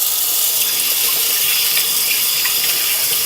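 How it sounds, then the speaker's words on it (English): Steady running tap water splashing over hands at a sink, washed with bleach water and soap; a continuous close hiss with no talk. "I'm washing my hands with bleach water."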